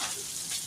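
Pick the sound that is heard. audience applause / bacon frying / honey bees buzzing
bacon frying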